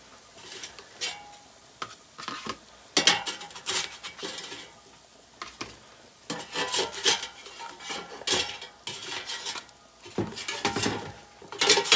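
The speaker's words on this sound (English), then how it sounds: "So what I'm going to do right now is to put my fish right on this plate here." Fried fish from an air fryer being set onto a plate, with scattered clinks and scrapes of utensils and dishes in irregular bursts, close and moderately loud, with no talk.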